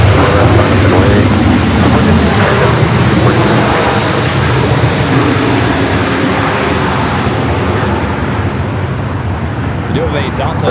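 Aircraft taking off at LAX, a loud, broad jet roar sustained throughout, with radio air traffic control talk over it.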